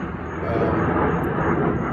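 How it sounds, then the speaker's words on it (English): A jet aircraft passes overhead as a steady, broad roar that swells after the first half second and holds loud and even throughout, heard from outside near a 2021 Ford F-250 pickup. "sorry, there's a jet flying over"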